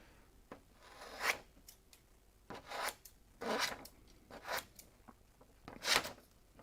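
A pair of freshly sharpened, formerly blunt scissors cuts in a workshop, making about half a dozen quiet, crisp snipping and slicing strokes separated by short pauses, close by with no talk.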